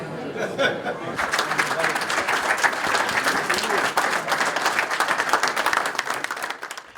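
A Texas crowd at a Chamber of Commerce meeting breaks into a standing ovation, sustained dense clapping swelling after a brief lull, with scattered chuckles and voices mixed in.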